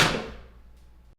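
A bathroom door recorded for foley gives one close thump with a short resonant tail that ends abruptly, heard alone.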